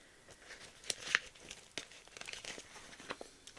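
Plastic envelopes in a small cloth ring binder are handled close up, giving soft crinkles and light crackling rustles with a brief zipper-like rasp, quiet and intermittent.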